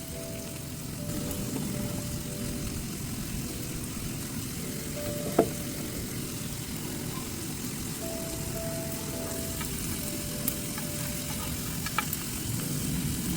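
Pineapple pieces fry in a pan with a steady, dense sizzle that holds throughout, broken by a few faint clinks as the pieces are turned.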